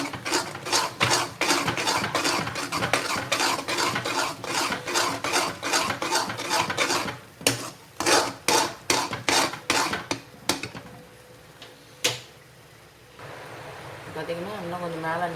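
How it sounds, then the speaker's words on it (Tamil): Banana halwa with ghee being stirred nonstop in a pan: rapid, close, rasping scrapes in a steady rhythm that thin out into a few separate strokes near the end. "நல்லா கிண்டிக்கிட்டே இருக்கணும், கைவிடாமல்"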